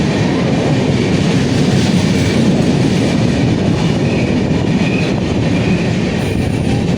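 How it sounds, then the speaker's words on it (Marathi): A Duronto Express roars straight through a station on the Konkan Railway without stopping, a loud continuous rumble with rattling wheels and a faint metallic squeal, steady and close the whole time. "स्किप रोयाला थांबलीच नाही ही ट्रेन. दुरंतो एक्सप्रेस आहे."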